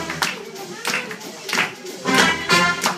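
Guests at a birthday party clap in several short, uneven bursts close by, with voices chattering between and over the claps.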